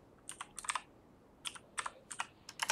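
Bursts of clicky computer keyboard typing in short irregular runs, close and fairly quiet, with no voices.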